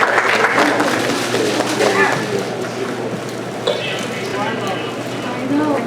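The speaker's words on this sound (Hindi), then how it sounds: "तो ये अमिता के लिए जोरदार तालियां।" An audience at a Hindi poetry gathering (kavi sammelan) in New York claps in a sustained, fairly loud round of applause with a dense patter throughout.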